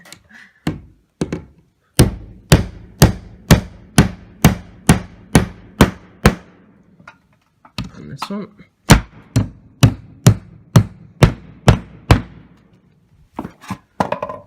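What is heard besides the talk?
hammering nails with Stanley 20-ounce hammer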